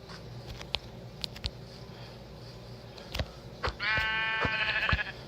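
Sheep in Minecraft Pocket Edition (Bedrock) give a clear wavering bleat near the end, preceded by scattered clicks and footstep-like taps in a quiet game setting.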